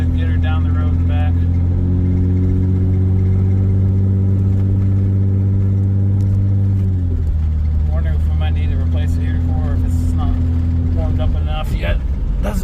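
A 1995 Toyota Camry LE V6 wagon drives down a road. Its engine hums with a steady tone that rises in pitch, then drops sharply as if shifting gear, and settles into a lower cruising drone.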